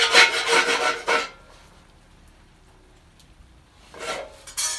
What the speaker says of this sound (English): this wire whisk is the best thing to use. It seems to turn the beans over on both sides the best.